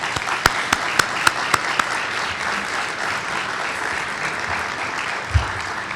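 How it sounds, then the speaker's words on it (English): An audience applauds steadily, with a few sharper claps standing out at the start, continuing throughout. "a round of applause right now"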